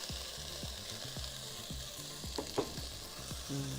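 Palm heart filling with peas sautéing in a pan, a steady soft sizzle and crackle with a few stirring scrapes, close and fairly quiet, no voices.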